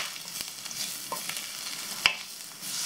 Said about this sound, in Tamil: இதையும் வந்து கொஞ்சம் வந்து இந்த பட்டர்லேயே வந்து நல்லா ஃப்ரை பண்ணி விடுங்க 1-2 நிமிஷத்துக்கு